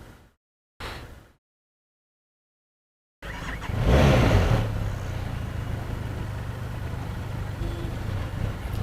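A Benelli TRK 502 motorcycle engine starts after a couple of short starter bursts and a pause, catching with a loud rev that settles into a steady, rumbling idle close by.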